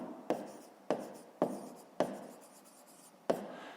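Pen strokes on paper while working a fifth-grade subtraction exercise by hand, five sharp scratchy onsets each trailing off into softer writing, close and quiet with no voices.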